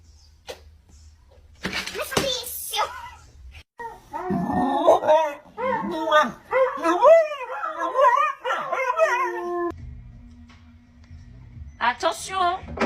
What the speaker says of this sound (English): What is the dog doing?